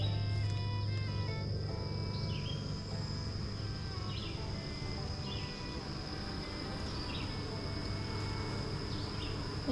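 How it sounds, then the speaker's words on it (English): Bees buzz around a hive outdoors on a morning, a soft continuous hum with individual insects zipping past now and then, alongside a high steady insect drone and occasional faint bird calls. "They're busy little bees this morning."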